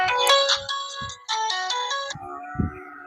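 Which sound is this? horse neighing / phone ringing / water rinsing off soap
phone ringing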